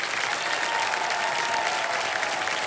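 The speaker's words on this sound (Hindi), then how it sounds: "एक बार जोरदार तालियां बज जाए साधना जी के लिए" The studio audience of the Kaun Banega Crorepati Season 17 quiz show applauds Sadhana ji with steady, dense clapping that stays at an even level throughout and has no talking over it.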